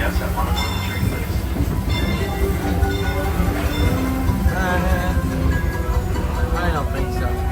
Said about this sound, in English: please stay seated until the train comes to a full stop